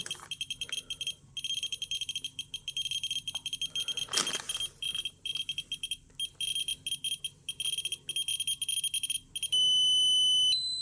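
A Terra MKS-05 dosimeter-radiometer sounds its alarm: rapid, shrill electronic beeps repeating steadily for about nine seconds, with a brief rustle midway, ending in a sustained continuous tone, close and clear.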